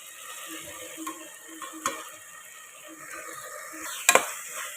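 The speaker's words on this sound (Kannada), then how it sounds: "ನೋಡಿ ಎಲ್ಲ ಕ್ಲೀನಾಗಿ ಈ ಥರ ಮಿಕ್ಸ್ ಆಗೋ ಥರ ಕ್ಲೀನಾಗಿ ಕಲಿಸ್ಕೊಡಿ" Spiced egg biryani masala with turmeric, chili powder, garam masala, biryani powder and salt is stirred in a pan, soft scraping strokes over a faint sizzle with a few sharper utensil clinks near the end.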